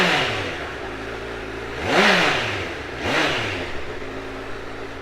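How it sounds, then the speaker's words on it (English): A 2016 Honda CBR1000RR Fireblade motorcycle on its standard exhaust idles with a close, growly note, then is revved twice in quick succession, each rev rising sharply and falling back to idle. "I'll give it a quick start so you can have a look and a listen of it"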